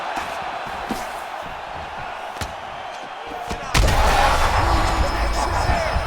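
Punches land in a UFC 5 video game fight, with light thuds and then one heavy slamming blow followed by a swelling arena crowd roar.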